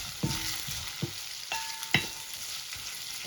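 Mango pieces sautéing in oil in a pan, a continuous close sizzle broken by several spoon-scrape stirring knocks at irregular intervals, with no voices.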